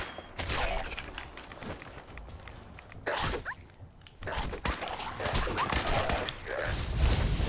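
Gunfire from shooting zombies in Fallout 4, a series of heavy blasts and impacts spaced across the stretch, with scuffling movement and background game noise between shots.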